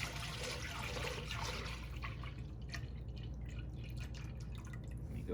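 Melted hard oils pour into olive oil for cold-process soap, a thin liquid trickle and soft dripping close by, fading into scattered small drips, with no talking.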